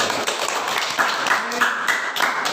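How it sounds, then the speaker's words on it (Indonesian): A class of children clapping their hands, a brief burst of close, dense claps mixed with voices. "Nah, tepuk tangan, tepuk tangan."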